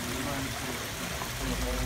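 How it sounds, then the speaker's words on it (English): Steady rushing and trickling water throughout from a small waterfall at a koi pond nearby, with a faint voice mixed into the continuous flow. "Look at that waterfall."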